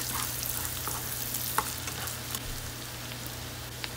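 Onion and garlic sautéing with meat in a pan for laing na kangkong give a steady, close sizzle, broken by a few soft clicks of stirring.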